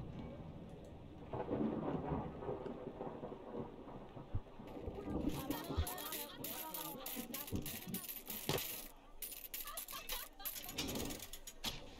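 Rain and rolling thunder in the Parkitect video game, a steady rainfall wash with low rumbles and scattered sharp crackles that grow busier partway through, heard alone without talk.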